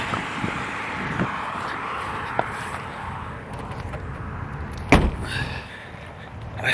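A car trunk lid slams shut with one sharp thud near the end, preceded by a few softer clicks and footsteps outdoors amid wind noise on the microphone.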